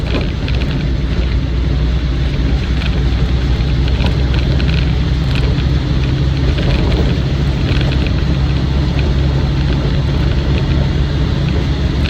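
Military tyres on a Land Rover Defender 90 300Tdi Wolf soft top drone steadily on the road at speed, a loud continuous rumble and roar mixed with engine and wind noise inside the cab.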